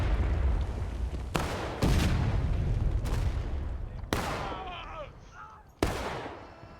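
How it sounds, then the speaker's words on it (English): Cannon fire from Confederate artillery in a Civil War video game, several loud booming shots at irregular intervals, each decaying with a rumbling tail, and no talk. "Looks like CSA Artie's firing into the Union line."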